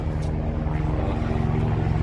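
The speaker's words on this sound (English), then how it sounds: "So there's always a helicopter going on top of me." A helicopter flies overhead near a helipad along the Govindghat to Valley of Flowers trek, a loud, steady rotor and engine drone that fills the whole moment without speech.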